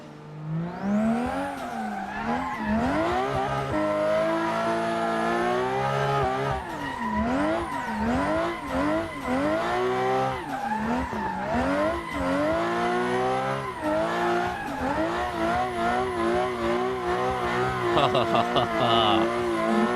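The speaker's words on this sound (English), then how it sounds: "This car looks so terrible, but it drifts so nice" Drifting car in the Assetto Corsa racing game, engine revving and rising and falling in pitch while tires squeal loudly through repeated slides, continuous and close.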